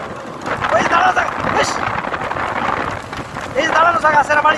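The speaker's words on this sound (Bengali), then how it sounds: "বৃষ্টি মনে হচ্ছে যে ভালো মতোই পড়া শুরু হয়েছে।" Heavy rain pours steadily along the Feni-Noakhali Road in Bangladesh, a dense, continuous hiss with swells of louder downpour, while people talk close by over it.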